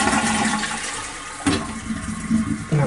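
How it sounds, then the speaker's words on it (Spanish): A toilet flushing in good condition in a residential bathroom, with a steady rush of water draining, then a fresh surge and refill gurgles near the end, close and fairly loud with no talk. "sanitario efectuando su descarga en buen estado"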